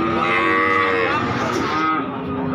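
Cattle at a livestock market for breeding heifers, including Limousin and PO cows, give one long, loud, close moo that fades out toward the end.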